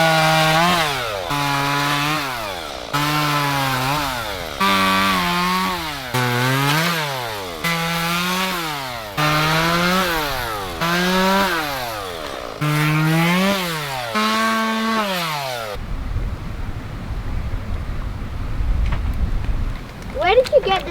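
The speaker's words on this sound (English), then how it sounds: "chainsaw is sharpened, topped up the bar oil and the fuel, cut up some wood" A sharpened chainsaw cuts wood outdoors in a cold wind, its engine revving up and down in repeated cuts for about fifteen seconds before it stops, leaving wind noise and faint movement.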